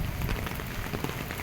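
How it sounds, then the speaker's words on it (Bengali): Heavy rain pours steadily outside a seaside hotel during a storm, a dense, continuous hiss of drops on surfaces that stays loud and even throughout, with no voices. "প্রচুর বৃষ্টি হচ্ছে"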